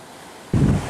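Ocean waves strike an eroding beach at Ulakan, a low rumbling surge that swells abruptly after a quiet moment of wind-like hiss and roars on, close and loud.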